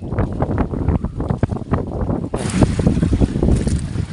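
Strong northeast monsoon wind at sea on a fishing boat, loud continuous gusting rumble battering the microphone with water and hull noise beneath, no voices.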